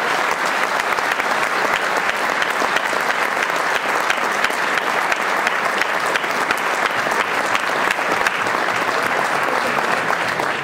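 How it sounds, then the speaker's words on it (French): At the Enduropale beach motorcycle race in Le Touquet-Paris-Plage, 2013, a large crowd of spectators applauds loudly and continuously, a dense, even roar of clapping that stays strong throughout. "Je vous propose d'applaudir très fort, je suis sûr qu'il nous entend."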